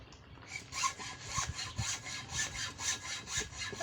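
A hand saw cuts through wood on a construction job in steady back-and-forth rasping strokes, about two per second, close but fairly quiet, with nobody talking.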